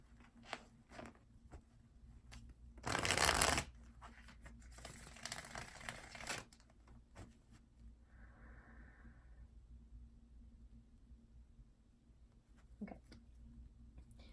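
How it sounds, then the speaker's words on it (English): A brief, crisp rush of tarot cards riffle shuffled together, followed by a softer ruffling cascade and light tapping in an otherwise quiet room. "I'm going to be riffle shuffling"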